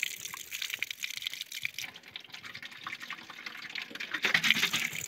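Stream water trickling and splashing into a container at a campsite, a soft continuous gurgling flow that swells louder near the end, no talking.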